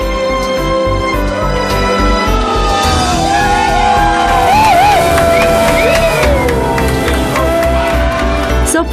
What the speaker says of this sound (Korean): 서퍼들은 환호성을 지릅니다